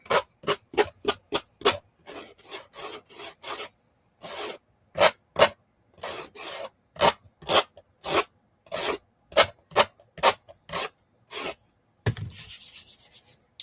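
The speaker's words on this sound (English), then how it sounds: "I just find sanding it easier." Rhythmic rasping strokes of sandpaper on the edge of a wooden piece, close and crisp, coming in quick bursts with short pauses, ending in a longer continuous rub.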